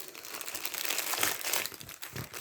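Plastic packaging from an unboxed Temu kit crinkles and rustles close up as it is handled and repacked, a busy crackling with no voices.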